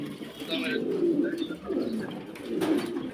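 Pigeons cooing at a farm, a pair made up of one blue bar and one black checker bird, with repeated low soft coos in steady phrases close by, mixed with a faint voice in the background.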